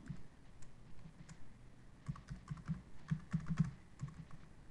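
Fingers type on a computer keyboard in quiet, irregular bursts of key clicks that grow busier toward the end, with no talking.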